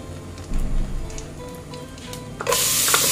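Curry leaves hit hot oil already holding popped mustard seeds, and a sudden loud hiss bursts out partway through, following a few quieter crackles and pan clicks.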